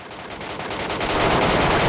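Rapid automatic gunfire in PUBG Metro Royale while shooting an enemy, a loud, dense burst that builds and continues steadily for about two seconds with no talk.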